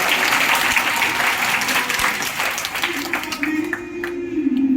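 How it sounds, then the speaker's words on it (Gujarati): An audience applauds at a gathering: sustained, dense clapping that thins out toward the end as a faint tone rises beneath it. "તાળી પડો, આપણો ભાઈ છે."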